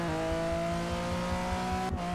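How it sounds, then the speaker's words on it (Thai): Car engine in GTA San Andreas, a steady droning hum with a regular pulsing beat, then a brief dip and pitch drop near the end as a gear shift lands, alone without talk. "แหมเสียงเปลี่ยนเกียร์"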